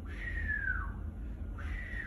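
A person whistles in imitation, two gliding tones that fall in pitch and then rise again, clear but moderately quiet over a low steady background hum.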